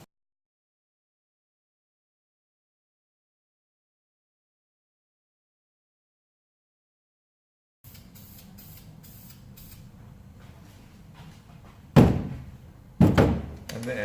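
After a long silence, a faint aerosol can hisses as it sprays a coating onto BMW E36 fuel lines, followed by two sharp, louder bursts near the end.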